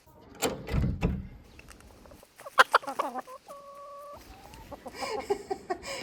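Chickens cluck at a garden door at Belmont House in Lyme Regis, a few close, sharp clucks and calls between quiet gaps, with a creak and footsteps nearby and no talking.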